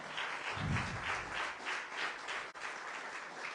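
A church congregation claps together in praise, a steady dense patter of many hands held at a moderate level for several seconds, with a low murmur briefly rising early on.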